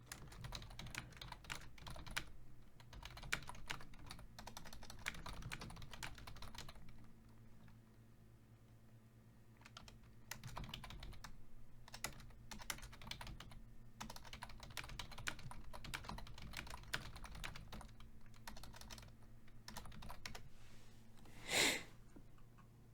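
Rapid typing on a computer keyboard comes in quick clattering bursts with short pauses, faint and close, and a brief sniff or snort near the end.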